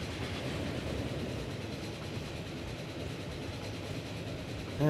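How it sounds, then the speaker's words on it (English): A passenger train rolls through the rail simulation game Transport Fever 2 with a steady, moderately quiet low rumble and rolling noise throughout. A brief brighter sound cuts in right at the end. "here comes our sister train"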